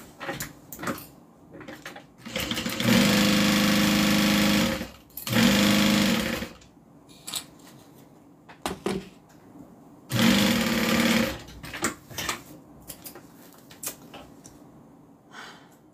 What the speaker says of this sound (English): Now we're going to add the bottom and sew that in place.